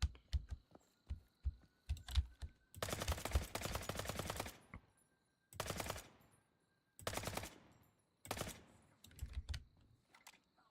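Video-game gunfire from a shooter as the lights get shot out: scattered single shots, then several long bursts of rapid automatic fire with short pauses between them, loud and close.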